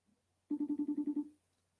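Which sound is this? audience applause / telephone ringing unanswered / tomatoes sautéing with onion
telephone ringing unanswered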